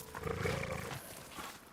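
Wolf in the video game Ghost of Yotei letting out a low, rough growl-roar, close and fairly loud, fading after about a second.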